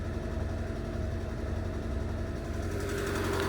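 An Abarth car engine idles with a slightly tappety valve clatter, a steady low rumble with a fast regular ticking pulse, close and continuous, no voices.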